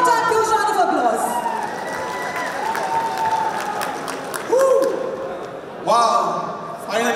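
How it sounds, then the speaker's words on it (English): Sustained applause from a large conference audience fills the room, loud and dense throughout, with cheering and a rising tone of stage music or voices over it. "One more time, huge round of applause."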